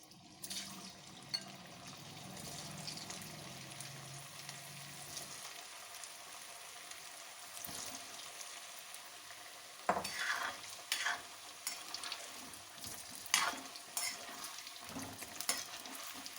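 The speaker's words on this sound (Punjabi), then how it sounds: "ਇਹਦੇ ਵਿੱਚ ਆਲੂ ਪਾ ਕੇ ਫਰਾਈ ਕਰ ਲਾਂਗੇ" Potatoes fry in well-heated oil for dum aloo, a soft steady sizzle under repeated clinks and scrapes of stirring that grow sharper and more frequent in the second half.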